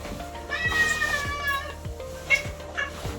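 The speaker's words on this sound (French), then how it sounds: "il y a mon chat. Oui, elle miaule." A domestic cat meows repeatedly indoors, several drawn-out wavering cries close by, with a few soft thumps underneath.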